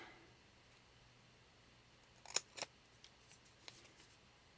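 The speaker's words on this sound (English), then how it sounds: "now I can quickly just cut all these out" Paper pieces being cut out with scissors for a handmade bee-themed journal cover, heard as a few quiet snips and clicks in a short cluster midway, faint and close against a still room.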